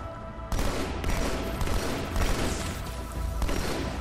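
Rapid bursts of battle rifle gunfire in Halo 2, loud and dense with repeated three-round volleys and booming impacts across the whole stretch, a busy firefight with no talking.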